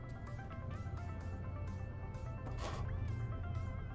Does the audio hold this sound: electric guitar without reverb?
no